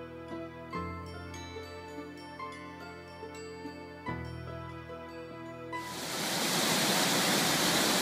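Water flowing out from under a rock at the headwaters of the Jordan River at Caesarea Philippi (Banias), a broad rushing hiss that swells in near the end after ringing bell-like tones.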